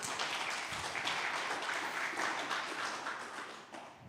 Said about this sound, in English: just give a warm applause to the MC of today because he did a great job